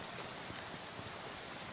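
Steady rain falls in the video game Shadows over Loathing, a dense, even hiss of drops with no other sound over it.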